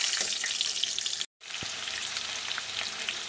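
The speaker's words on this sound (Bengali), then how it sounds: "5 ফোড়ন আর কাঁচা লঙ্কা দিচ্ছি, 5 ফোড়ন" Five-spice tempering and four whole green chilies frying in hot oil give a steady, close sizzle that breaks off completely for a moment, then resumes.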